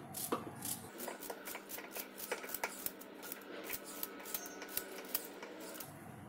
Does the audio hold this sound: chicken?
no